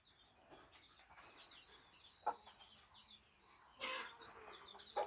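A hen with three-day-old chicks in a mountain village yard, faint clucks and thin peeping chirps scattered throughout, with a louder burst near the end, fairly distant and quiet.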